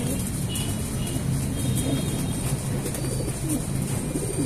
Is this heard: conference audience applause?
no